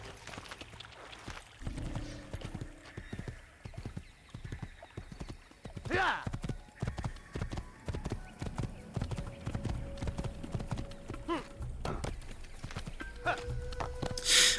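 Horse hooves clip-clop at a steady walking pace in the video game Assassin's Creed, near and clear, with an occasional whinny and a speaking voice over the top.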